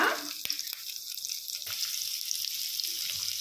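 Finely chopped onion and green chilli frying in a pan, a steady bright sizzle close by, with a couple of soft knocks from stirring.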